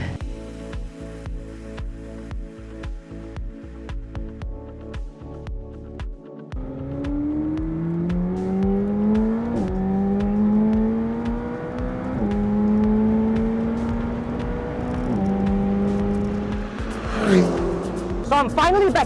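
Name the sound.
McLaren GT 4-litre V8 car driving at Sepang circuit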